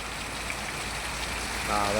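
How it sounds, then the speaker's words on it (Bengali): Heavy rain falling during a dark cloudburst, a dense continuous hiss of drops hitting surfaces, loud and close, swelling slightly at the end. "তো এ তো ব্যাপক বৃষ্টি হচ্ছে, ব্যাপক।"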